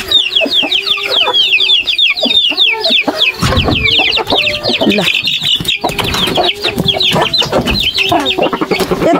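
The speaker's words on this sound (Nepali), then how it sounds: "यति हो त हाम्रो कुखुरा" Backyard chickens cluck and chatter continuously and close by in a morning yard, with overlapping calls from several birds and a few brief human sounds mixed in.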